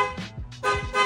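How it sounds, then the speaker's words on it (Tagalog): Several short honks from a PIAA horn fitted to a BMW GS850 motorcycle in quick succession, loud and close, with brief gaps between the bursts and no talking. "nagkabit din tayo ng busina, PIAA horn"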